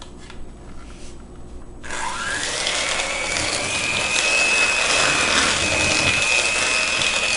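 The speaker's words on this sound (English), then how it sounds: "She's going to cream the butter and sugar together and get it all nice and fluffy." An electric mixer creams butter and sugar for blueberry muffins, starting after a quiet moment with a steady whirring drone and a rising motor whine that runs loud and continuous to the end.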